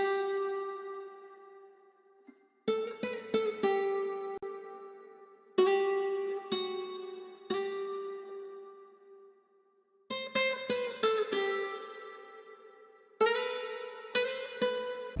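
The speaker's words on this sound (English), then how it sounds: "the guitar melody I played sounds like this." Chopped ambient guitar melody with reverb, played as clean plucked notes in stuttering bursts separated by short gaps, each phrase ringing out and decaying before the next chopped cluster begins.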